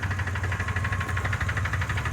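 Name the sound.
project car engine running with ticking noise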